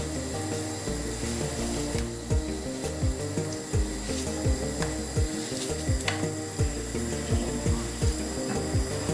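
A knife slices plantain on a board, a run of quick regular chopping taps layered over a low background hum from nearby kitchen noise.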